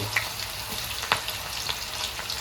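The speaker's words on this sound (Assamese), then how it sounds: "পিঁয়াজখিনি ধুনীয়াকৈ ভাজি ল'ম" Onions fry in oil, sizzling steadily in a pan, a constant hiss with occasional louder pops and a soft scrape of stirring.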